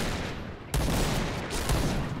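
Gunfire in the first-person shooter Point Blank: rapid bursts of shots that intensify after a short pause, loud and close with no talk over them.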